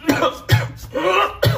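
A person coughs hard in a home kitchen, four loud, close, harsh bursts spaced about half a second apart with rasping throat sounds between them.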